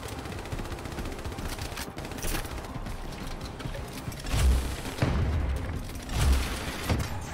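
Repeated heavy booms and bursts of gunfire in the shooter Hypercharged Unboxed, grenade launcher thumps landing every second or so over continuous combat noise.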